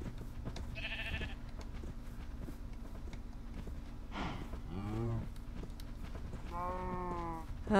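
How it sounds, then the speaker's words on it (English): Minecraft cows and sheep make several distinct calls: a short bleat, then longer moos, over a steady background of game ambience. "Oh, cows and sheep."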